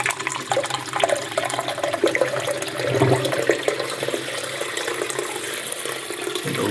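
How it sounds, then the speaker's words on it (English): Water pours and splashes steadily into an aquarium pre-filter compartment during a tank installation, a continuous rushing, gurgling flow heard close up. "And the water is just now going into the pre-filter compartment"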